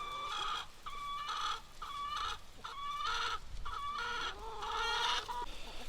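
Chickens clucking and a rooster calling on a homestead, with repeated bursts of clucks and crows close by, continuous through the clip with no talking.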